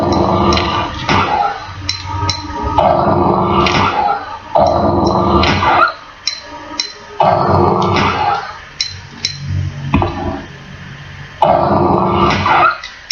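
Zombie dogs in the video game Resident Evil 2 growl and snarl in repeated loud bursts, separated by brief pauses, with game ambience between them and no talk.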